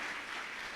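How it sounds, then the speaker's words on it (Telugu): A church congregation claps together during a sermon, a brief dense wash of applause that is steady and fairly distant, with no voices on top. "గట్టిగా చప్పట్లు కొడదామా?"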